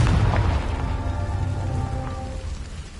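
A Confringo blasting spell bursts in the Hogwarts Legacy video game: a loud, booming explosion at the start that rumbles and crackles as it slowly fades over a few seconds, with a tonal hum sustained beneath it.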